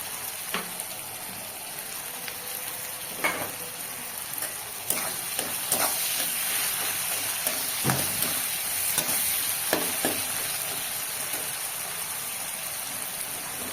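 Garlic and green chili paste fries in a pan with a constant soft sizzle, and occasional stirring scrapes and clinks come through close by. No voices are heard.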